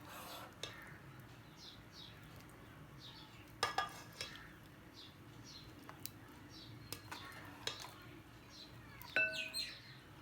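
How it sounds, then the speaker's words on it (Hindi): Potato curry is spooned from a pan into a bowl, with scattered soft clinks and scrapes of utensil on dishes, faint and intermittent, over quiet background with light bird chirps. "अब हम इसे बाउल में डालेंगे।"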